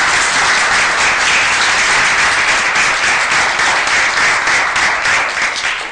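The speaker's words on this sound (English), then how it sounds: "let's give Philip a round of applause" A large conference audience applauds steadily, a dense wash of clapping that holds at full strength before starting to fade at the end.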